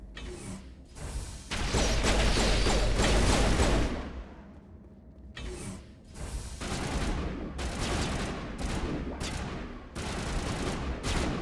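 Video-game gunfire comes in dense rattling bursts with mechanical clatter, loud and close, with a long sustained volley early on and then repeated shorter volleys separated by brief gaps.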